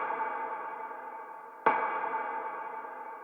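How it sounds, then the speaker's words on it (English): A filtered percussion sample in a music remix sounds as a muffled, band-limited ringing tone. A single sharp hit lands midway, then the tone continues and decays. "And then I added this filtered percussion sound."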